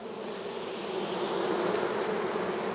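A honeybee colony buzzes loudly and steadily, close up, as a hive is opened and its frames inspected, with no voices.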